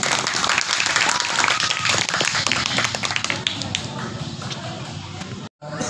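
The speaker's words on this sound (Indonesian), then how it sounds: "Tepuk tangan buat Mas Ade" An audience at a branch chairman's welcome gathering claps for a speaker, a loud, rapid spatter of many hands that gradually thins and softens toward the end, with a brief dropout near the close.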